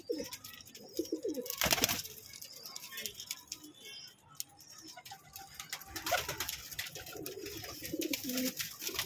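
Pigeons coo softly in a loft, including high flyer breeds, with low murmuring calls and some fluttering heard faintly under a voice.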